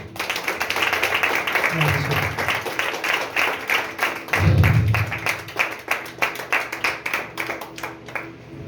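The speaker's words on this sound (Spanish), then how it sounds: "Dale un aplauso a Jesús." A church congregation applauds at an evangelical service, with brisk, uneven clapping continuing throughout, loud and close, and brief low voices rising beneath it.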